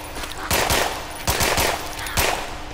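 Rapid gunfire from the zombie shooter game Contagion, three bursts of loud close shots, each a quick cluster of cracks, separated by short pauses over a steady background hum.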